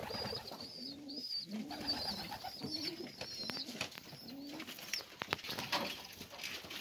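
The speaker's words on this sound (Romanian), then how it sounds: "Toți au venit porumbei." Pigeons coo in soft repeated rolling phrases on a rabbit farm, close and fairly quiet, with a few wing flaps and rustles toward the end.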